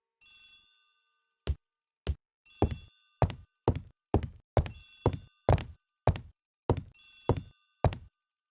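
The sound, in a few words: telephone ringing in the hall, from a video game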